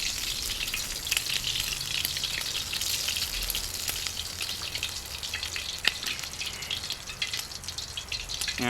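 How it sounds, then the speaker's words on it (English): Pork fat fries in a pot as the base of a hellfire stew, giving a steady bright sizzle and crackle with occasional louder pops and no talking over it. "getting all that pork fat fried up there, and while it's frying up"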